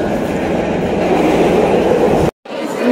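A Chicago L train passes close by, a loud, continuous rumble and rattle of wheels on track that fills the whole stretch, with a brief dropout near the end.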